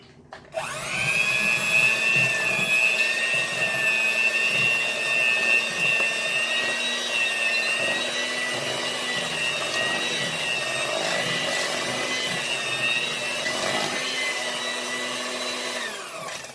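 Electric mixer whirring through gingerbread batter with molasses, a loud steady motor whine held for the whole stretch with slight shifts in pitch and no talking.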